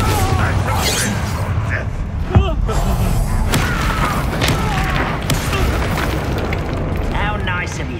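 A Bombarda explosion spell goes off in Hogwarts Legacy amid busy combat noise, with a sharp boom near the middle and rumbling effects and clatter continuing around it throughout.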